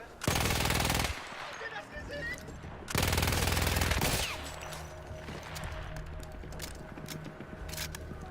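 Battlefield 1 gunfire: two loud, dense bursts of rapid automatic fire, each about a second long, then quieter game ambience with scattered distant shots.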